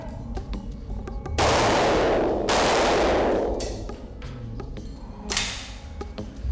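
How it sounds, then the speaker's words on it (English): Bursts of gunfire ring out, two long loud blasts of shots followed by a shorter volley, with sharp cracks scattered between them. "Gun going bang!"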